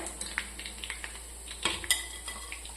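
Chicken pakoda sizzles softly in hot oil while a utensil scrapes and clinks, lifting the fried pieces out; close, fairly quiet, no talking.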